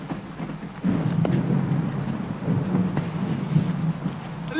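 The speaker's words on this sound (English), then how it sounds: "It's exciting to be out in thunderstorms." An outdoor thunderstorm rumbles with a long, deep roll of thunder swelling from a quieter start, over a steady wash of rain and wind.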